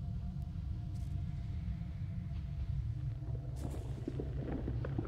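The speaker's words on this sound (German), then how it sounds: "Und da ist jetzt so ein Gewitter." Thunder from a storm in the space strategy game Stellaris rolls as a low, steady rumble, with brighter crackling flickers building toward the end.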